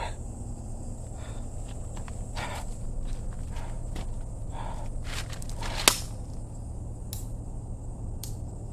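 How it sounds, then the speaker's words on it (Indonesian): Footsteps in a forest at night, a slow irregular series of soft crunching steps over a steady insect-like hiss, with one sharp snap partway through. "ada suara langkah kaki."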